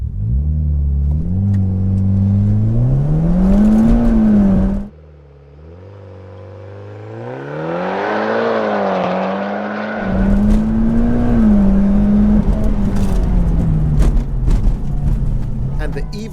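A Mitsubishi Lancer Evolution X launches flat out, its engine revving hard and climbing through rising pitch sweeps with a brief drop between gears, loud and close, while people talk over it.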